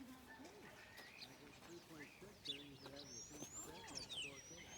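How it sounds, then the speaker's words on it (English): Birds chirp and call on a misty, damp day in a town, with short bright tweets and trills scattered over a steady murmur of background noise. "Birds are all chirping."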